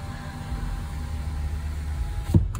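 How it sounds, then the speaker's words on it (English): A car's power window motor hums steadily as the glass rolls up, heard from inside the car over a low idling rumble before entering a car wash, ending in a soft thud as the window seats shut. "Got to roll up my windows."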